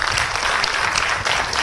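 A brief burst of dense, steady applause from a workshop audience at MCL on social forestry and mine closure, honouring the team, with claps blending into an even wash.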